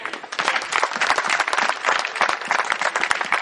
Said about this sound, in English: That demands some applause right there